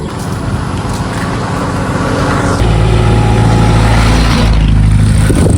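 Steady traffic rumbles past on a roadside highway beside a chili field, a loud, continuous engine drone that swells as a heavier vehicle draws close, with no talking.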